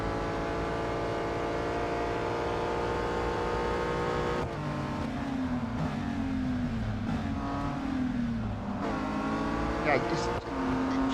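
A race car in the Real Racing 3 video game drives continuously, its engine droning and shifting pitch as it revs and accelerates, loud and steady throughout with no talking.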